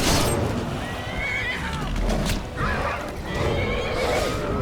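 A horse neighs during a dragon fight in the fantasy game Skyrim, a loud drawn-out whinny over dense battle noise and rumble, with a second cry later in the clip.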